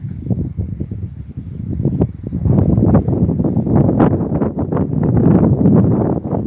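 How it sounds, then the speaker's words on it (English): Steady wind buffets the microphone outdoors with low, gusty roaring and rustling that swells and holds throughout. "A little windy out here."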